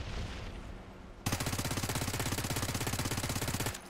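Rapid automatic gunfire from a mobile shooter video game bursts in loudly after a quiet opening second and keeps up a fast, steady rattle of shots for more than two seconds before cutting off.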